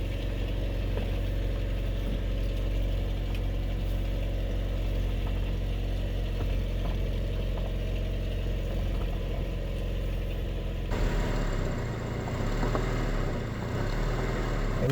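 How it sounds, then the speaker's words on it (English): An Acura RSX Type S engine idles steadily while the steering is turned lock to lock, a continuous low mechanical hum with a slight change in tone near the end and no voices. "So the next thing you want to do is turn your car on."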